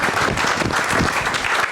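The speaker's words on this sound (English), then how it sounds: "Please give him a round of applause." A conference panel audience applauds, dense steady clapping that stays loud for the entire short stretch.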